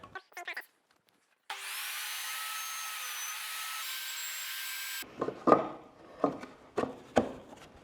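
A table saw cuts a dado in wood: a sustained bright whine runs for several seconds after a faint start, then stops, followed by scattered wooden knocks and rubbing as the piece is handled.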